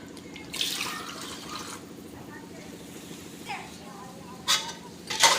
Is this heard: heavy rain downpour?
no